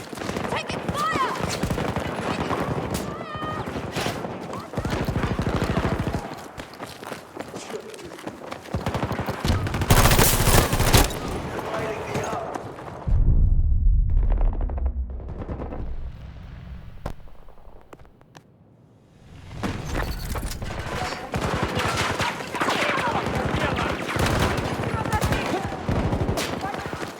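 Rapid gunfire bursts from a Battlefield 2042 team deathmatch on the Noshahr Canals map, loud and dense, with shots and explosions crowding the first half, a brief lull mid-clip, then renewed volleys and game voice callouts.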